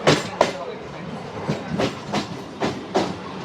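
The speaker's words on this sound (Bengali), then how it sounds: "ঠিক সময় মতো 1 2 3 4 3 দার্জিলিং মেল ছাড়লো শিয়ালদা স্টেশন।" The Darjeeling Mail passenger train runs after leaving Sealdah station, its wheels giving a steady, rhythmic clickety-clack over rail joints with a constant rumble underneath, heard from on board.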